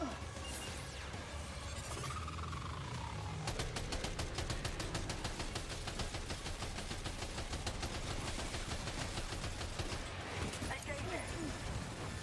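Rapid gunfire from a spaceship's gun opening fire in a sci-fi battle, a dense burst of repeated shots running for several seconds under a steady roar of other action noise.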